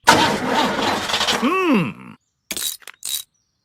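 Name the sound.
car engine starting in a cartoon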